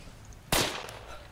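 A single sharp gunshot in the Project Reality military shooter game, a sudden crack that fades quickly over a low, steady background.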